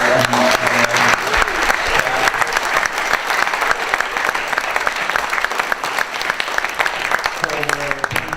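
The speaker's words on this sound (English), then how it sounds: "How about a big round of applause for Abbie and the whole Honolulu" An audience at a surf film festival closing night in Honolulu gives a long, loud, dense round of applause, steady throughout with scattered voices and cheers inside it.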